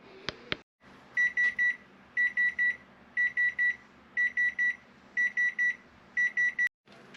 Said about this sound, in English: Then I'll set the timer for about 22 minutes and check it.